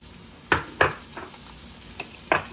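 Mushrooms fried in a little olive oil in a pan give a soft steady sizzle, broken by several sharp scraping stirs of a utensil against the pan.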